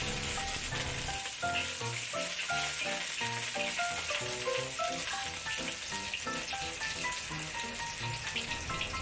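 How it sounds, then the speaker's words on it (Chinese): Ginger slices sizzle in hot oil in a wok, a dense, close crackle that holds steady throughout with faint stirring, under a light musical background and no talking. "將啲薑片咧爆香佢先嘅"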